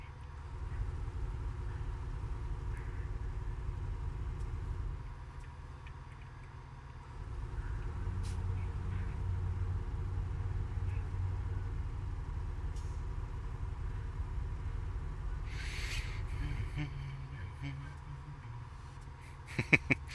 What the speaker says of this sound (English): I think the engines sound way better now